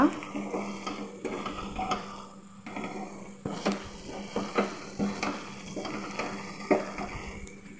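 Prawns with tamarind leaves are stir-fried in a pan, a soft sizzle under repeated scraping and clinking of the spatula against the metal, irregular and close.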